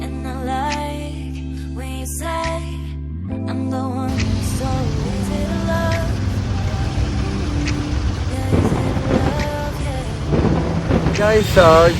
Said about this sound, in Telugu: వర్షం మాత్రం వేరే లెవెల్లో పడుతుంది అమ్మ.